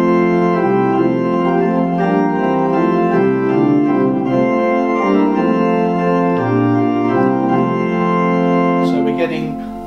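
A pipe organ sounds its great stops with the swell-to-great coupler on, giving a rich, full run of sustained chords that move steadily, then a brief bright burst near the end.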